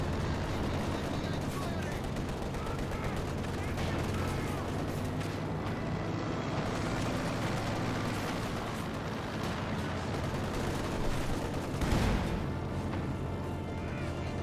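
Dense, continuous battle noise from the Company of Heroes 2 strategy game, with gunfire, explosions and rumbling vehicles layered throughout, a sharp louder blast near the end, and commentary talk running over it.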